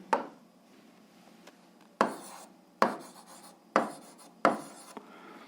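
Pen or chalk writes out an algebra exercise, with five crisp strokes and taps at uneven intervals, each followed by short scratchy scribbling, close and clear.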